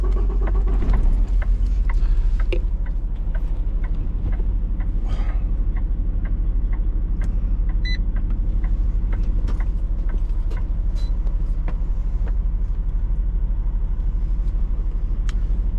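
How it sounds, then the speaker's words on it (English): A truck engine runs with a steady, loud low rumble close by, continuous throughout after a brief louder surge at the start, with faint clicks and rattles over the idle. "Alright, let's start the truck again."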